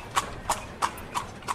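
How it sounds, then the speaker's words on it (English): Cartoon horse cart in a children's puzzle game: five crisp, evenly spaced hoof clip-clops ring out alone at a steady trotting rhythm, clear and close. "Horse cart."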